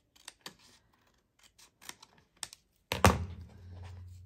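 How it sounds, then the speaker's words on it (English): A handheld paper cutter trims a thin strip from paper for a faux front envelope: a few light taps and clicks, then one louder close slicing stroke with a low hum trailing after it. "I should use my cutter."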